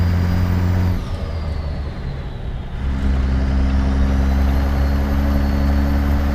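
Peterbilt 389 truck with a heavy-torque diesel engine rumbling deeply while driving, loud and steady from inside the cab, easing off briefly before the engine note pulls strongly again.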